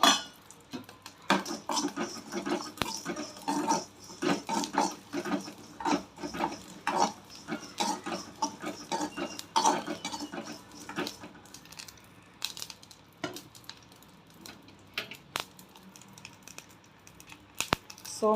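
Roasted cumin seeds are moved from a pan onto a plate, with metal utensils clinking and scraping in an irregular run of close, light clatters and taps, with no talk.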